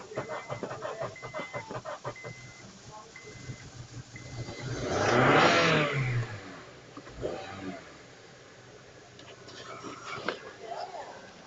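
A 2009 Honda CR-V engine under the hood, struggling to start, revs up hard in a rising then falling surge at close range, with background talk and clatter before and after.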